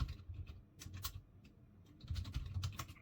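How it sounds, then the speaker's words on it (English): A password being typed on a computer keyboard, a quick run of close, crisp key clicks in two bursts separated by a brief lull, no talking. "type in our password, and no more than 8 characters"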